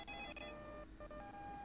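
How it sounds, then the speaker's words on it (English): An in-game phone goes off in the Windows 95 game Byzantine: The Betrayal, a run of faint, steady electronic tones like dialing beeps, alone with no voices. "Phone's going off, it's loading."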